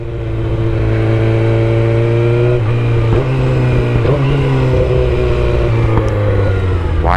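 A motorcycle engine revs loudly and steadily throughout while being ridden, its pitch climbing and dipping in a continuous roar close to the microphone.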